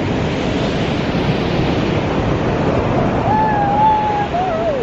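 Ocean waves at Black Sand Beach in Sausalito wash in a steady, loud roar mixed with wind buffeting the microphone, and a faint voice briefly rises near the end.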